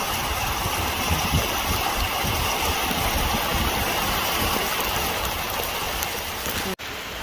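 Small hail falling steadily onto grass outdoors, a continuous dense patter that stays loud and even throughout, with a brief dropout near the end.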